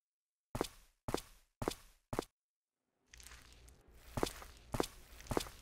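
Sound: footsteps approaching in a church, from a video game

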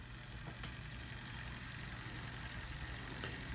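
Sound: 3D-printed pulse motor rotor spinning

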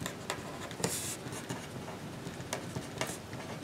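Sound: writing on a board during a math lecture

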